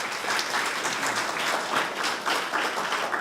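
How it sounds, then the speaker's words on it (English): Community meeting audience applauding, a loud, continuous patter of many hands blending into a dense wash for a few seconds, fairly close, with no voices over it. "And give them a round of applause, please"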